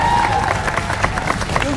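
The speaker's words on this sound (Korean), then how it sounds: "축하의 박수로 부탁드리겠습니다." Studio audience on a Korean Saturday variety contest show applauding and cheering for a winner, a loud crowd of claps with a faint voice and hum running underneath.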